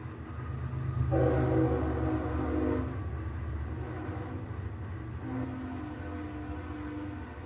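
A train rumbles past nearby, a steady low roar with a brief tonal horn-like swell partway through before it fades back to a continuous rumble.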